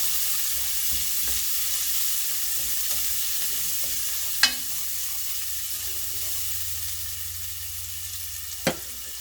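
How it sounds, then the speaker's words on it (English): Onions sautéing in a pan until translucent give a steady, soft sizzle with a few faint stirring scrapes and two sharp utensil taps against the pan, no talking. "we'll just saute that until it's translucent"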